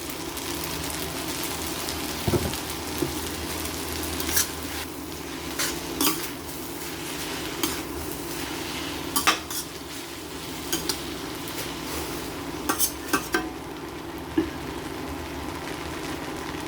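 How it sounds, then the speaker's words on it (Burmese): Glass noodles with egg are stir-fried in a pot, a soft steady sizzle under repeated scraping and clinking of a utensil against the metal, close by with no talking. "အိုးမကတ်အောင်ပဲကြဆန်မြန်မြန်နီးရအောင်"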